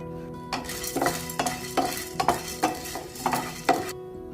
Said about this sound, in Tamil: அடுப்பை பற்ற வச்சு சட்டியை வச்சு எல்லாத்தையும் வறுக்கணும்